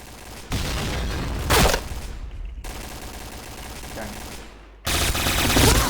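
Gunfire in a video game: loud sustained bursts of rapid shots, dropping off briefly and then resuming, close and dense.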